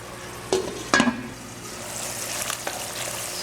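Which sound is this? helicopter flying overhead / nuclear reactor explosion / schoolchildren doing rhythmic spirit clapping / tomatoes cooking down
tomatoes cooking down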